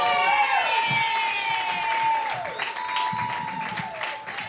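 An audience at a comedy show claps and cheers for the incoming comedian, steady close applause with scattered whoops throughout and someone speaking over it.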